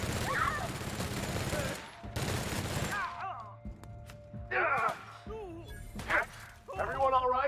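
Machine gun fire in The Outer Worlds game opens with two dense, loud bursts, followed by scattered single shots and impacts. Voices talk in between the shots.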